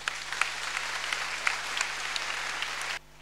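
A church congregation applauds a priests' silver jubilee, steady dense clapping at a moderate distance that stops abruptly near the end.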